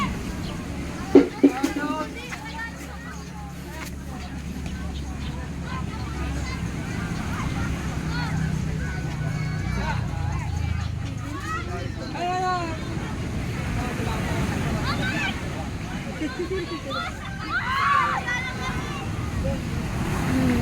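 Ocean waves wash in on the dark-sand shore of Tiwitiwi Beach in Legaspi, Albay, a constant broad rush with wind noise, while people talk and chatter nearby throughout.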